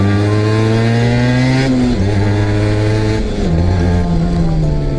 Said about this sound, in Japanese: ギアを一速に入れてまず発進